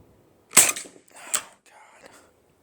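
Crosman Legacy 1000 pump air rifle firing a 10-grain pellet: one sharp, close crack followed by a second snappy click and faint mechanical rattles.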